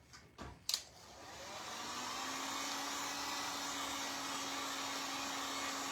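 A hair dryer runs steadily at close range, drying a freshly painted fleur-de-lis jewelry box; a few brief knocks come first, then a constant whirring blow holds for the rest of the clip.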